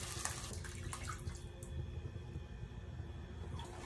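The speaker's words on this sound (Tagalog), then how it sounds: "Tangan na to og gamay tubig." Water runs and splashes steadily into a pot, a continuous watery pour over low background rumble.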